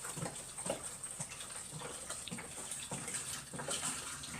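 Water runs into the drum of a Frankford Arsenal platinum series rotary tumbler in a steady, soft trickling gush with faint splashes, close up and quiet, with no voices.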